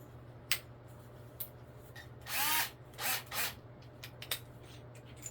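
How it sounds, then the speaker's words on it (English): A cordless drill spins a magnetic hex nut driver in a few short bursts, one longer whirring run followed by two brief pulses, with small clicks and handling noises around them and a faint background hum. "you can even use it in your drill"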